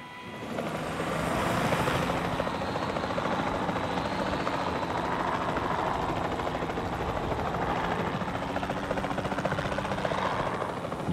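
A steady, loud helicopter drone with chopping rotor noise from the video game Jurassic World Evolution runs continuously, no voices over it.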